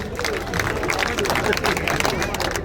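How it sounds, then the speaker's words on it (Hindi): A crowd at a Congress political rally in Jind, Haryana, claps and cheers to welcome Deepender Singh Hooda, with dense, steady applause blended with crowd murmur and voices. "साथियों तालियों से स्वागत करो"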